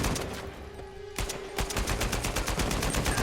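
Automatic machine gun fire in Uncharted 4: a quieter stretch gives way to loud, rapid bursts of evenly spaced shots that carry on to the end without a break.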